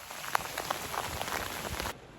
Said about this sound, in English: it is raining real hard